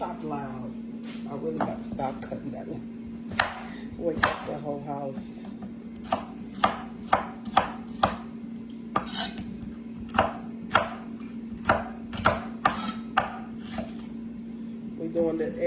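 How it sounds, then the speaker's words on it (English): A knife chops red pepper on a cutting board, loud, sharp and close, in a quick irregular series of strikes over a steady background hum. "I chopped loud. I really got to stop cutting that."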